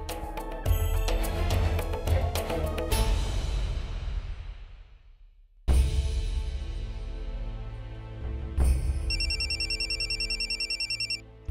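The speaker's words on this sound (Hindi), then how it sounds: "अमित का फोन है, अमित का है।" A phone ringtone sounds over a busy musical background, with a repeating electronic ring pattern late in the clip; no one speaks.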